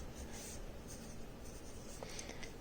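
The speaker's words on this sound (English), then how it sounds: "I'm going to write that right here." Pen or marker scratching steadily on a kindergarten math worksheet, a faint, continuous dry scraping with a few brief strokes, quiet and close with no talking.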